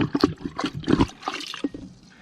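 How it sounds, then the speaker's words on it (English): Plunger pushing water in an overflowing toilet bowl, irregular wet gurgles, sloshes and splashes coming in uneven pulses, close, then tapering into quieter trickling. "We're going to use the plunger to get rid of as much water as we can."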